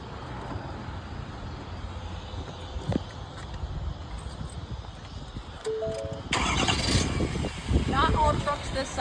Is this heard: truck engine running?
yes